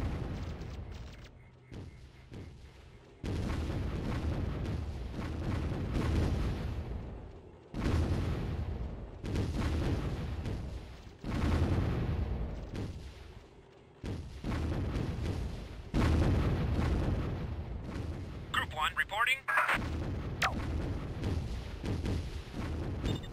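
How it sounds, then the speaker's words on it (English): Bombard artillery in the real-time strategy game Warzone 2100 fires in a series of heavy booming shots spaced a few seconds apart, each a broad rumbling blast, with a short burst of higher clatter late on. "even with bad modifiers against bunkers, the bombards are able to do significant damage per shot to them"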